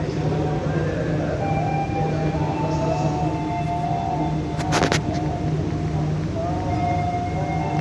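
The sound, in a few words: KA Sembrani train passing Karawang station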